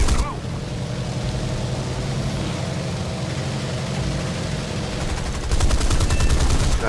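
Four 20mm aircraft cannons fire in War Thunder, a loud, dense, sustained roar with engine drone beneath, swelling harsher near the end.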